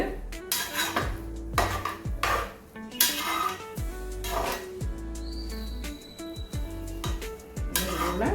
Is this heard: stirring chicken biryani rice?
yes